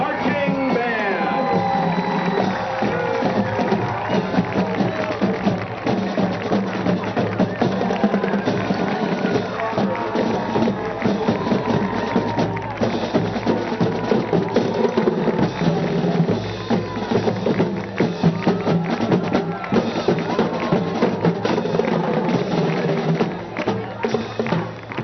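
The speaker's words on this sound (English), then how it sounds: "a big round of applause for your Plymouth High School Marching Band" Crowd at a Plymouth High School football game cheering and applauding the marching band, a loud, sustained wash of clapping and whoops that holds steady for the whole stretch.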